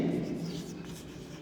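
Writing on a board during a math lesson, a brief, close scratching of strokes lasting only a moment, with no speech over it.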